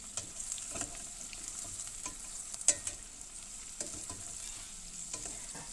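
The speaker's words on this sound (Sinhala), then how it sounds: "ඊට පස්සේ මේ විදියට ලෝණුයි මාළු මිරිසයි හොඳට තෙලේ මැලවෙනකම් පොඩ්ඩක් වෙලා තියලා තියෙනවා" Onions and chillies fry in hot oil with a steady soft sizzle, and a spoon stirring the pan lands in occasional light scrapes and taps.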